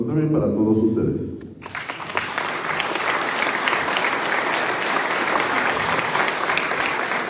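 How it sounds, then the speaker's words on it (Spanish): A voice speaks briefly before an audience breaks into loud, sustained applause at a municipal advisory council swearing-in during a Puebla tourism plan presentation, the clapping steady and full for several seconds. "Quiero pedir un fuerte aplauso también para todos ustedes."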